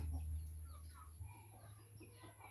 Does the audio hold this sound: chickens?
yes